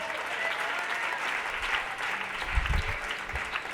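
A church congregation applauds together in dense, steady clapping that holds at an even level throughout, with a few low thumps near the end.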